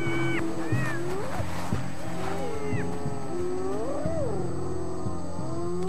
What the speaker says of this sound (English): Soon, 30 adult hyenas are all protesting noisily.